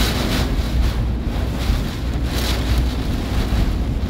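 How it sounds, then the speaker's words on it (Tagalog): Strong wind of a tropical storm roars and buffets the microphone continuously in Quezon Province, Philippines, a loud rushing gust with no voices. "Lakas ng hangin, yung hangin na matindi, oh."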